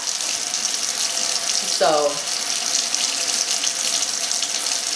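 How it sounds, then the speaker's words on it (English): Hot water runs steadily from a household tap with a constant hiss, and a brief voice is heard partway through. "I'm going to go ahead and start it because it takes a second for my water to get hot."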